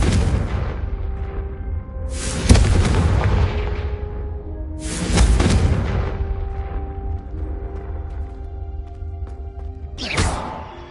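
Hogwarts Legacy Confringo fire spell blasts go off three times, each a loud sudden burst with a trailing roar, spaced a few seconds apart over a steady low rumble.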